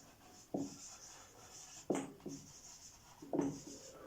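Pen writing on paper while taking notes, three short scratchy bursts of strokes separated by pauses, close and fairly quiet over a steady background hum.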